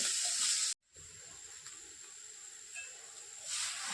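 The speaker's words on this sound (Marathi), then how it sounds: "असं आपण तुपावर हे खोबरं परतून घेतलं" Grated coconut sautéed in ghee in a kadhai over low to medium heat gives a steady close hiss, broken by a brief silent gap and swelling slightly near the end.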